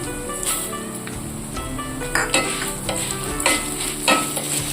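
Coriander and fenugreek seeds being dry-roasted in a pan, giving a continuous rustling sizzle broken by several louder stirring scrapes, close by, with no talking.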